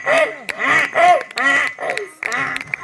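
A voice imitates a donkey braying in a mimicry routine, with about five rising and falling honking calls in a steady rhythm, loud and close, alone without other talk.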